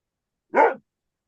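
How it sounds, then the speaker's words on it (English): A single short bark from a dog comes over a remote call, isolated in silence, moderately loud and close. "Surprisingly, I can hear Mark's dog."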